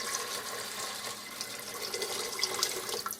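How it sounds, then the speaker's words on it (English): Water pours steadily over dried pinto beans in a cooking pot, a continuous close rushing splash that holds even for about three seconds with no talking. "now we're going to put the water in"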